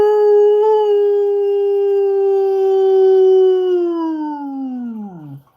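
A voice imitates a dog's howl, one long sustained tonal wail that holds steady and then bends downward and fades out at the end, loud and alone.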